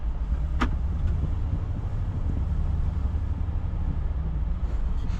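A 2023 Land Rover Defender 90 V8 Carpathian Edition drives along, its engine producing a steady low rumble with road and wind noise throughout and one brief sharp click near the start.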